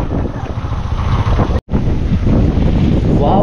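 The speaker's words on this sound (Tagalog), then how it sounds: "Wow, ang lakas ng hangin, ang sarap." Strong seaside wind at San Juan, Batangas buffets the microphone with loud, continuous rumbling and roaring gusts, broken by one brief dropout.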